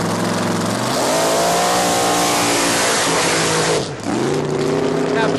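A Ford Taurus wagon drag car revs hard with a rising, strained engine note that climbs, holds loud, drops abruptly after a gear change, then climbs again, close and dominant throughout.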